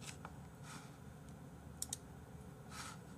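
Soft, quick keyboard typing with scattered clicks, close and quiet, a few sharper key taps standing out midway.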